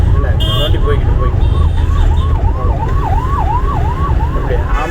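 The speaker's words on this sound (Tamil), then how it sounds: "அப்படியே ஆம்புலன்ஸ் போகுது பார்த்தியா?" An ambulance siren wails in a repeated up-and-down cycle, loud and close, as it passes on the road during a driving lesson, with steady traffic and engine rumble underneath.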